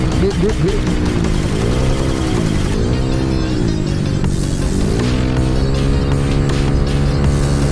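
A custom-built motorcycle with a cut-off exhaust pipe rides an endurance run, its loud engine note rising and falling steadily through gear changes as it passes close by, continuous and unbroken with no talk over it.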